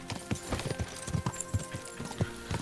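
Horse hooves clip-clop in a steady, uneven rhythm in a video game, a run of distinct close thuds across the whole stretch with a faint voice underneath.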